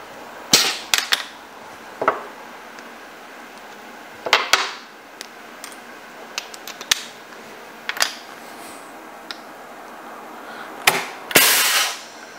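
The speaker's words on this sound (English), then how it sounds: "That sound you're hearing is me putting some more plastic into the hopper." Plastic pellets are poured by hand into the hopper of an injection molding machine, giving scattered sharp rattling clicks and short rustling bursts at irregular intervals over a steady background hum.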